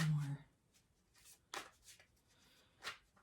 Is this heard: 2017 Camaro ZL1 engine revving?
no